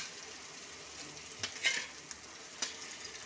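Chicken shami kababs fry gently in a pan on a low flame, a steady soft sizzle broken by a few brief scraping clicks and a short louder burst as the patties are flipped.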